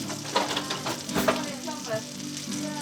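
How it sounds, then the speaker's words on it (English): Butter melts and foams in a hot non-stick Teflon pan for pork medallions, a close, busy sizzle and crackle with soft stirring sounds and a faint voice in the background. "melt the butter until it starts foaming, which it's already started doing"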